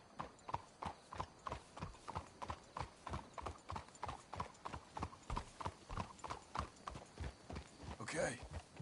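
Horse hooves clip-clop steadily on a path in the video game Red Dead Redemption 2, a close, even rhythmic clopping that continues throughout, with a brief burst of louder noise near the end.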